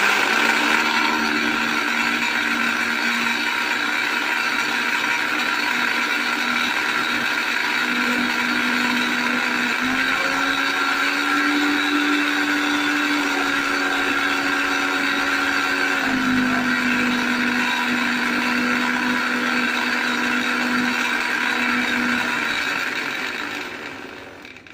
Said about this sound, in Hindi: अब हम इसे स्मूथ होने तक ब्लेंड कर लेते हैं।